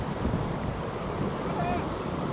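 Ocean waves wash steadily onto the shore at night, a loud continuous surf roar with wind buffeting the microphone close by.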